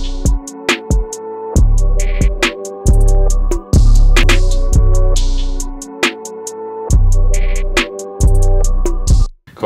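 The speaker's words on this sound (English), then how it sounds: "I just want to see if I can get a short 808 to work" Loud hip-hop beat made in Logic Pro X, with short punchy 808 bass hits under sharp percussion and melodic layers, playing in a choppy rhythm of bursts and brief pauses, with no voices.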